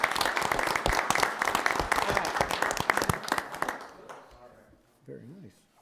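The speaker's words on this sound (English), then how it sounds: "if we could just give them a big round of applause" Audience applause fills a city council meeting, dense clapping for about four seconds before fading, then a brief voice speaks near the end.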